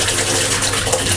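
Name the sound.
running tap water in a Swiss public toilet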